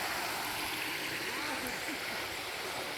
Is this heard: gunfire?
no